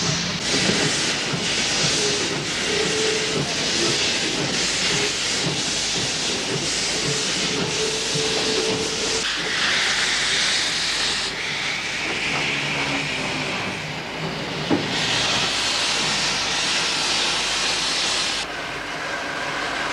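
Double-headed 19D steam locomotives labour along the line in South Africa with loud hissing steam and a rumbling, clanking train, bursts of exhaust rising and falling over the steady roar.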